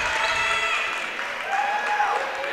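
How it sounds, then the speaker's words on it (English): Crowd applauding and cheering in a standing ovation at a girls' under-18 basketball game, a steady dense wash of clapping and voices that holds at full strength throughout. "She gets a standing ovation from the crowd as she checks out for her efforts today"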